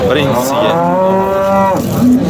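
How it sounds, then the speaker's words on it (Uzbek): A loud, drawn-out Simmental cow moo close by at a livestock market in Shahrikhan, one long sustained call that rises and falls before ending. "Semental sigirlar bor ekan."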